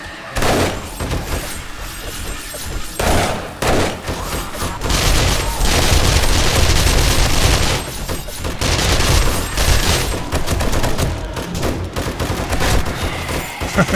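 Dense bursts of gunfire during a horde night in the game Darkness Falls, a survival shooter, rattle out in rapid loud volleys with brief pauses between them, accompanied by heavy booming impacts.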